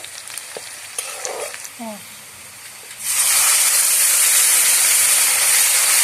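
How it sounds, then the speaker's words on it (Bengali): Spices and ginger-garlic paste go into a pan of nearly fried onion for a picnic egg curry. After a few quiet seconds with faint voices, a loud, sudden, sustained sizzle and hiss of frying sets in and holds steadily. "সব মশলা একসঙ্গে দিয়ে কষানো আরম্ভ হলো ভালো"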